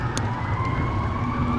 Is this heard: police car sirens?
yes